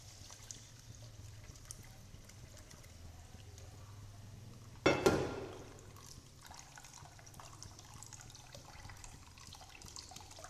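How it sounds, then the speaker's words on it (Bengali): Water poured into a cooking pot for boiling olives, a brief loud gush midway that trails off into a softer trickle against a quiet kitchen background. "এমন পরিমাণে জল দেবো যাতে জলপাইটা সেদ্ধ হয়।"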